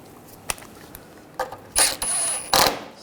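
A ratchet snugging a nut on the washer pump shield of a 2007-2013 BMW 328i: a few light taps, then three short, close bursts of rapid clicking.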